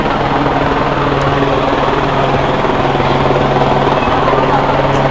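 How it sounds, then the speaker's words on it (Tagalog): A helicopter flies over the Pasig River during a festival run, its rotor drone loud and constant throughout, with people talking under it. "Ayan yung helicopter."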